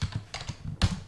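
Keystrokes on a computer keyboard under Linux Mint tap out in a quick, uneven run of clicks, close and fairly crisp, ending with one heavier stroke, with no voices.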